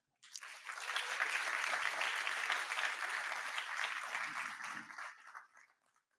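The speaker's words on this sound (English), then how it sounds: "This is our team, and we worked hard for it, so applaud for them." A crowd at an Unreal game jam event applauds a team, a dense burst of clapping that starts abruptly, holds steady for about five seconds, then tapers off quickly.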